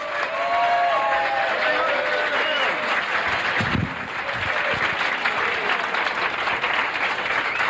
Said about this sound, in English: Let's have a nice round of applause.